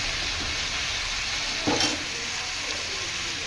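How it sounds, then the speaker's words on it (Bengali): Mango curry frying in a pan, a steady close hiss of sizzling oil with one brief scrape of a spatula stirring midway, no voices. "এই দিয়ে আমি নেড়ে করে ভালো করে নেড়ে দেখছেন"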